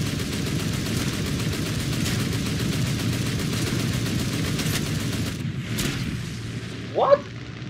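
Heavy tank guns and battle noise in War Thunder, a dense, continuous low rumble of gunfire and booms, with a short sharp burst near the end. A voice speaks over it.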